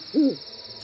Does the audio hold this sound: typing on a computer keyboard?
no